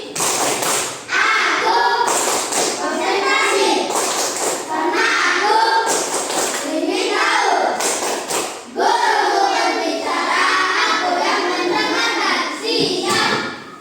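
Classroom of children doing a rhythmic concentration clapping routine, bursts of claps and thumps mixed with children's chanting voices in a repeating pattern, loud and close throughout.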